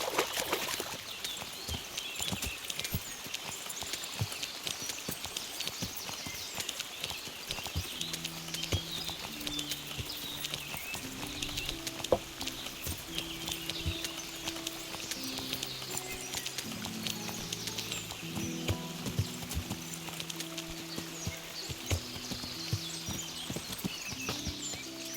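Horse hooves clip-clop in Kingdom Come: Deliverance, a continuous patter of steps over an outdoor ambience, with background music rising partway through, fairly quiet throughout.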